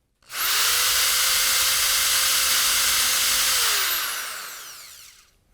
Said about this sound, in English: and now you're ready to sand.